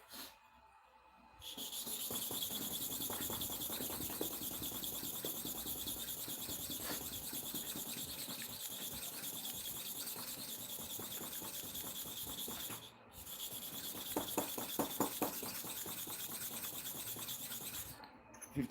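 Clipper blades being sharpened by hand on a stone make a continuous rhythmic rubbing and rasping, close and steady with brief pauses, no talking.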